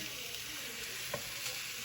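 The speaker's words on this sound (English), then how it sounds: "You can hear a nice sizzle." Steady crackling sizzle of bacon frying in a pan on medium heat, a continuous close hiss with small pops, no voices.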